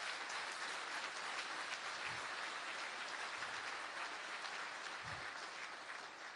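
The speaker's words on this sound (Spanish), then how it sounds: "Eso merece un aplauso." An audience gives dense, steady applause that runs unbroken from start to finish at an even, moderately loud level, with no talking over it.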